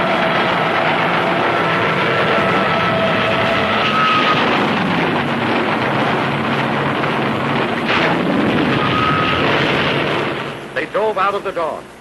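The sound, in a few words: land-based planes flying low over the sea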